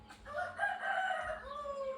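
A rooster crows once, close and loud, with a drawn-out call that carries over softer clucking from nearby chickens.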